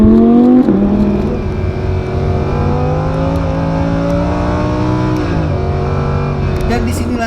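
A yellow Lamborghini Huracan engine hums steadily from inside the car, its pitch shifting with gear changes, while a person talks over it.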